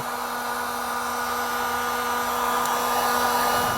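A heat gun blows steadily on crimped heat-shrink butt connectors joining trailer wiring, a constant close whooshing drone with no pauses.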